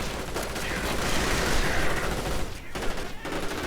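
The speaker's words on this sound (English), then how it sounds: "Assault rifles firing." Dense assault rifle fire in a real-time strategy battle, continuous overlapping bursts of gunfire forming a steady crackling barrage for a few seconds with a brief lull near the end.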